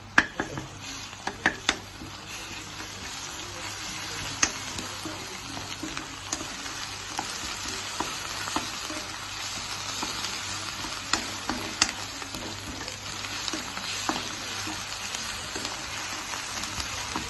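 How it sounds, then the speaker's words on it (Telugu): Potatoes frying in a pan give a steady close sizzle, with sharp utensil taps near the start and scattered stirring clicks throughout, and no one speaking. "ఆలు ఫ్రై చేస్తున్నా"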